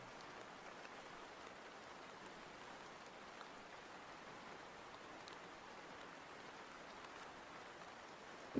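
Soft, steady rain patters in the background, a continuous faint hiss of drops on a surface with no voices.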